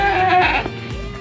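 A sheep lets out one loud, close bleat that wavers and then fades, heard during sorting of sheep for the Eid al-Adha sacrifice.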